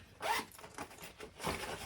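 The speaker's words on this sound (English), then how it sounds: "And in the interior, it has a zipper right here." A zipper on the interior pocket of a vintage thrifted handbag is pulled open in a few quick, close rasping strokes, with no talking.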